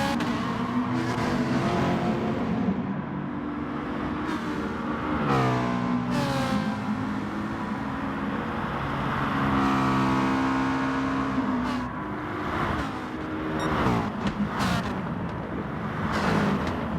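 Race cars in the GT Sport video game roar down the main straight and into the first corner of a Brazilian circuit, engines revving and shifting continuously for the whole stretch, with no talk over them.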